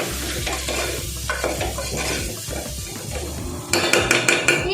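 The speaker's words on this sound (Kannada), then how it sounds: "ಒಂದು 2 ನಿಮಿಷ ಇದು ಎಣ್ಣೆಯಲ್ಲಿ ಚೆನ್ನಾಗಿ ಮಿಕ್ಸ್ ಆಗಲಿ, ಫ್ರೈ ಆಗಲಿ" Soya chunk biryani mixture being stirred and fried in hot oil in a pot, with a steady scraping stir and gentle sizzle throughout, growing louder with sharper utensil clinks near the end.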